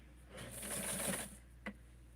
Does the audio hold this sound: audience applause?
no